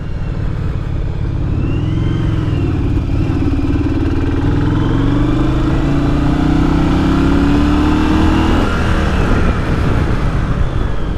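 A 1982 Yamaha Virago motorcycle engine revs up through the gears while riding, loud and close, pitch climbing steadily with a shift near the end and constant wind rush.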